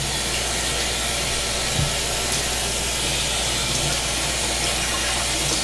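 Tap water runs in a steady, loud, continuous hiss while a cleaned brook trout is rinsed under it, with no voices.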